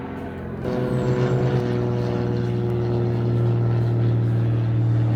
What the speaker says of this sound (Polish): samolot holuje szybowiec.